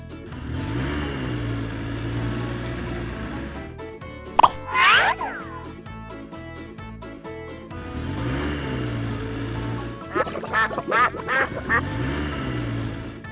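A duck quacks in a short burst of nasal calls, then again in a quicker run later, over a steady droning engine-like background.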